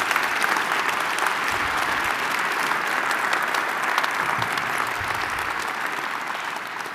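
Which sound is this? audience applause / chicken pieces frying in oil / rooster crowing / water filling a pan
audience applause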